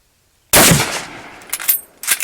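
A French MAS-36 bolt-action rifle in 7.5x54mm fires a single loud, sharp shot close by, followed by a long decaying echo and a few faint clicks of handling or the bolt afterward.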